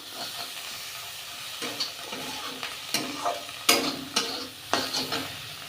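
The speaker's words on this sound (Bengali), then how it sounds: "দিয়েছি বেশি করে তেল, 2টো তেজপাতা, 5 ফোড়ন, 1টা শুকনো লঙ্কা" Bay leaves, five-spice and a dry chilli crackle in plenty of hot oil, a soft background sizzle broken by several sharp spitting bursts and stirring scrapes, with no voice.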